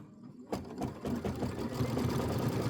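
A sewing machine stitches quilting on a Kimberbell Hello Sunshine traditional pieced block, starting after a brief quiet moment and then running at a steady, fast mechanical hum with a rapid needle rhythm throughout.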